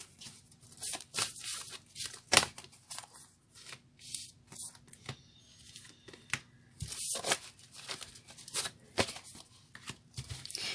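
Tarot cards being shuffled, a run of crisp riffling and slapping bursts at a steady, uneven pace, close and fairly quiet with no voices.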